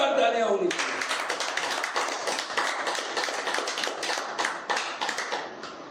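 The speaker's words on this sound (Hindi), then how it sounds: "जोरदार तालियां होनी चाहिए।" Audience at a network marketing seminar in India breaking into brisk clapping after a brief opening of a speaking voice, a dense patter of hands continuing and slowly thinning.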